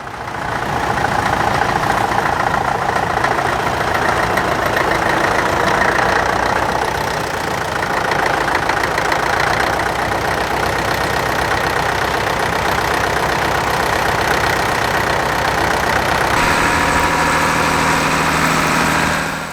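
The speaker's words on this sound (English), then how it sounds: "here's a tractor we haven't seen yet, an International 414, providing trailer rides around the site" An International 414 tractor giving trailer rides at a working day, its engine idling steadily and loudly for a long stretch with a low, even rumble and a slight change in tone near the end.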